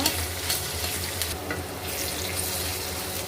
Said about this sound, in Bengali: এখন তেলটি গরম হয়ে গেছে, পেঁয়াজ দিয়ে দেব। পেঁয়াজগুলো এখন নেড়ে দেব।